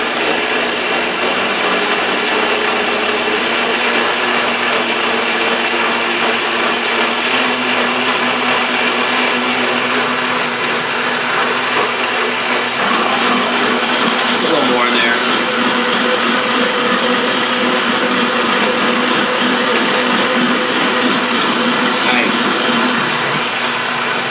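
A blender on its low setting purees hot soup with a loud, steady whirring drone that never lets up and a faint rattle of the jar, filling the whole stretch without talk.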